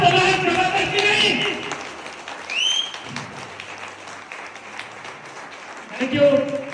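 Audience applause at an open seminar, a dense wash of clapping strongest at the start and fading under a speaker's voice that talks throughout.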